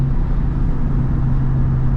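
A Lexus IS350 with full bolt-ons and a tune runs at full throttle on country backroads, heard from inside as a loud, steady droning engine note with no talking.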